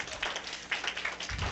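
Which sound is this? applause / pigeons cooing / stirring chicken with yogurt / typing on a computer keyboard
applause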